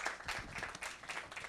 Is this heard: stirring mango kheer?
no